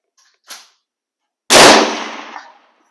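A 1905 or 1919 M-96 Swedish Mauser rifle fires one loud, sharp shot at a 100-yard target, the blast followed by a short fading echo, with a faint click just before.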